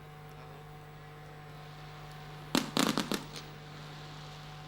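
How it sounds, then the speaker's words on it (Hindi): A quick cluster of sharp bangs and crackles from distant fireworks at the Vikramotsav festival in Ujjain, India, lasting about a second over a steady low hum. "जमकर आतिशबाजी हुई"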